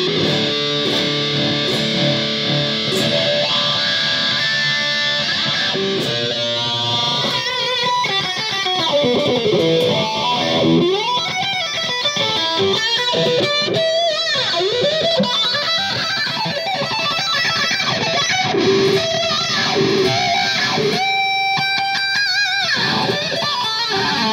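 Electric guitar played through a chain of drive, booster, reverb and wah pedals, a continuous distorted, effects-laden tone with shifting sweeps and sustained chords over nearly half a minute, loud and steady with no talking.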